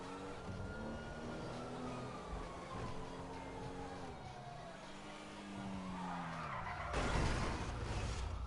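Car driving in the video game GTA V, with a steady engine drone and sliding, wavering tire skid tones through most of the clip, then a louder, rougher burst near the end.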